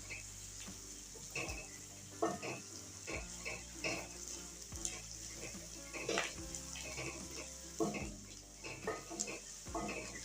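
Ginger-garlic paste and chopped chilies are stirred in a frying pan for a potato curry. The spoon scrapes in repeated, uneven strokes over a constant close sizzle, with occasional clinks against the pan.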